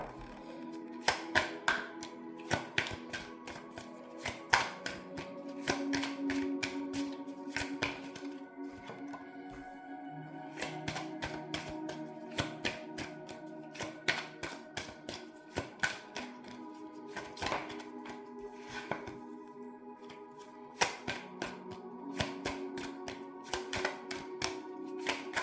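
Oracle cards being drawn and handled: rapid, dense flicking, tapping and shuffling clicks, close and fairly steady throughout, with no voice.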